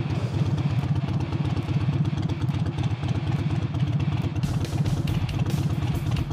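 A Harley-Davidson 48 fitted with a new air intake rumbles steadily while riding toward a highway, its loud close engine pulsing evenly throughout with a brief shift in tone near the end.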